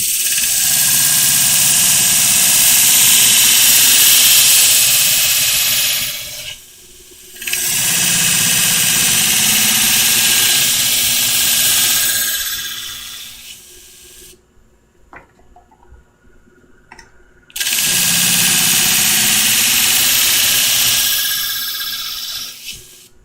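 A Hira-To shear sharpening machine running at about 40% speed, a loud steady whirring hiss in long runs that stops twice, with quiet gaps between runs and no talking.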